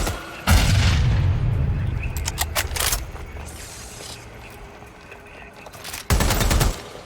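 Gunfire in the video game Watch Dogs Legion, heavy booming shots in two loud bursts at the start and near the end, with rattling impacts and a quieter stretch between.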